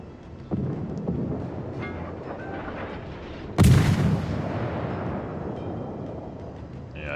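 Naval gunfire from the cruiser Katori in the World of Warships game: a low ongoing rumble of distant shots, then one loud close blast with a long rolling decay.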